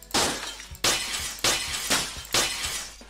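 Glass breaking from the Minecraft Sphax PureBDcraft sound pack, four loud, sharp shattering crashes in a row, each with a brief tinkling decay, close and clear with no talking.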